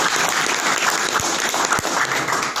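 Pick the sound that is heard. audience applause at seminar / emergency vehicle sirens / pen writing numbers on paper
audience applause at seminar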